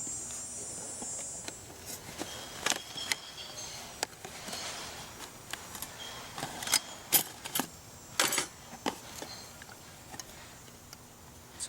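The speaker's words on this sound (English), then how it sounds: "So let's open it up" A Magic Heat stove fuel canister is opened by hand: a run of sharp clicks, taps and metallic rattles, loudest toward the middle, close and fairly faint against a quiet room.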